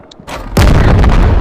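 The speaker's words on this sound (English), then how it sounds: "I'm gonna shoot the RPG ammo" RPG fired in the VR game Animal Company, a short rising whoosh then a sudden loud, heavy booming blast that rumbles on, very close.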